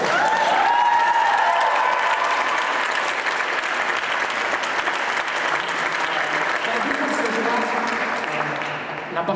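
Concert audience applauding the drummer, dense sustained clapping filling the room for several seconds before gradually thinning out.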